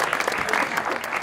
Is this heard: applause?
yes